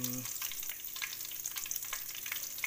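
Steady sizzling of kerisik, toasted grated coconut, frying in a hot pan, with crackling pops scattered throughout and no voices.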